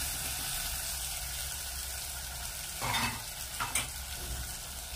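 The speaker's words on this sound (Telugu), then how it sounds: "కట్ చేసిన టమాటాలు, ఉల్లిపాయలు కొంచెంసేపు మగ్గనివ్వండి." Chopped tomatoes and onions softening in a pan, a continuous low sizzle and hiss, with a couple of brief stirring scrapes near the end.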